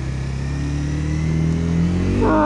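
A Honda CBR300R motorcycle engine revs up loudly through a tight U-turn, its pitch climbing steadily and then jumping sharply near the end, close and alone.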